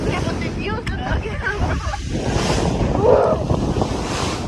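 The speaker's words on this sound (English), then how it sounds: "Windy." Strong wind blowing across the microphone out on the Pacific Ocean, with a steady roar of gusts and surf over the whole stretch, and faint talk mixed into the noise.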